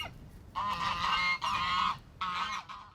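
Farm geese honk in three loud, harsh bursts close by, the first two nearly back to back and the third after a short pause, over a low rumble of wind.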